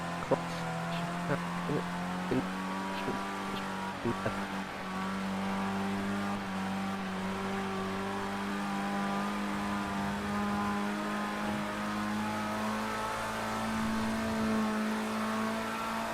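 A race car engine in the Project Cars 2 racing game hums in a steady, sustained drone for the whole stretch, its pitch shifting gently up and down as the car drives across a wet track with standing water.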